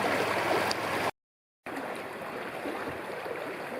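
Water from a chopped-out beaver dam pours and gurgles in a steady, close rush, broken by a brief cut to silence before the flow resumes.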